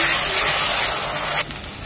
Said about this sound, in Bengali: এটাকে ভালোভাবে 1 মিনিট ভেজে নেব, যেন আদার ঝাঁঝালো গন্ধটা চলে যায়।